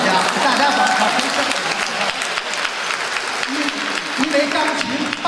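An audience at a Sydney Spring Festival gala gives dense, sustained applause for a pianist who played a piano accompaniment of a Peking opera, with a voice speaking over the clapping.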